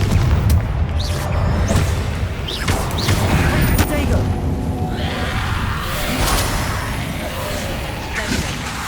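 Confringo fire spells in Hogwarts Legacy explode in a dense, continuous barrage of loud booms and crashing impacts, with shouted spell-casting voices mixed into the chaos.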